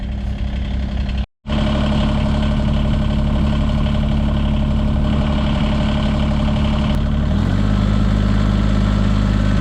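A heavy truck engine, just started while stuck in snow, idles loudly and steadily after a brief dropout, its rumble shifting pitch slightly near the end as it settles.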